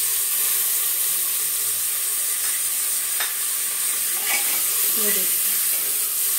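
Vegetables being stirred into frying rice for biryani, a steady sizzle with scraping stir sounds running throughout, close and fairly loud, with a brief bit of speech.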